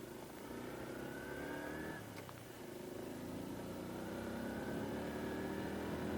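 A car pulls away in first gear heading into a harbour: a faint engine hum rising in pitch as it accelerates, with a slight dip and then a steady climb, heard from inside the vehicle.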